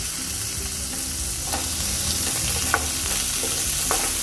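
Chopped tomato hits hot oil with onions for a Bengali semolina pulao, a steady close sizzle with occasional scraping stir strokes throughout.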